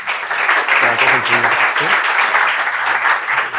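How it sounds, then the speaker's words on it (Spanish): An audience at a Bitcoin business talk in Barcelona claps loudly and steadily, a dense roomful of applause with faint voices mixed in. "que entre François, un fuerte aplauso."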